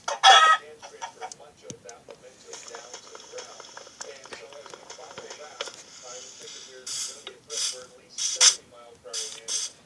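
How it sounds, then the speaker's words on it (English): Chicken clucking in the video game Minecraft, short repeated clucks among game sound effects and footsteps, mixed under a voice talking. "chicken."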